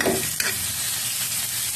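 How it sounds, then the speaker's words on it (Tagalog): Onion and garlic sauté in a hot pan for prawn sinigang, with a steady close sizzle and a quick scrape of stirring near the start. "igigisa ko muna ang sibuyas at bawang"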